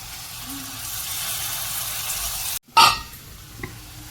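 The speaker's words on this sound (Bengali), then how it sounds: "এবার এর মধ্যে দিয়ে দেবো টমেটো বাটাটা" Tomato paste drops into hot oil in a pan after potatoes have been fried, giving a sudden loud sizzle burst after a quiet moment, then settling into a softer steady frying hiss.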